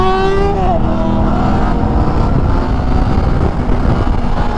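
A motorcycle on a group ride roars close and loud as the rider accelerates for a wheelie, the engine pitch climbing quickly before settling into a sustained, rough drone.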